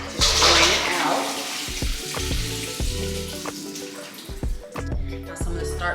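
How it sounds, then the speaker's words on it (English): Cold water drains from a bowl of cut potato fries into a kitchen sink, pouring in a loud steady gush that splashes and patters against the basin, with clunks of the bowl under the rushing flow. "So I'm gonna go ahead and come over to my sink and just drain it out."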